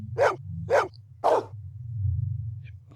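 A dog in the video game Blade Runner barks three times in quick succession, fairly close, over a steady low electronic hum, then the hum continues alone.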